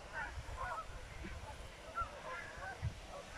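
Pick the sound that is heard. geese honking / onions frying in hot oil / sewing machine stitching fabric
geese honking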